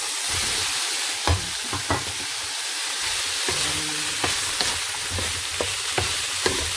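Bacon frying in a pan, a steady loud sizzle with intermittent scraping and tapping as it is stirred, close up with no voices.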